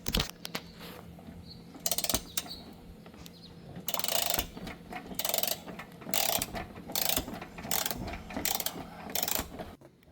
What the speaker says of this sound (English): For this one, I'll need an extension on my wrench.